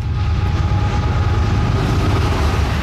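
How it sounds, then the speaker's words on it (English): A train rolls through Canmore, Alberta beneath Three Sisters Mountain, a loud, steady low rumble of rail cars with continuous clatter throughout, close by and with no talking. "Awesome train passing through Canmore, Alberta here, overlooking Three Sisters Mountain."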